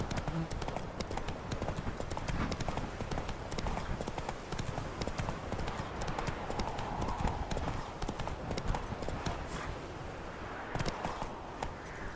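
Horse hooves clip-clop in a steady, brisk rhythm throughout, close and prominent, as the horse is ridden through a forest in The Witcher 3.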